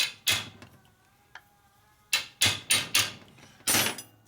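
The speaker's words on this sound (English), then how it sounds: "you give it a couple love taps with your hammer" Sharp metallic hammer taps on a wrench ring out during a 1949 Harley-Davidson Panhead engine rebuild, one early, a lone faint tick, then a quick run of four strikes and a final blow, close and fairly loud.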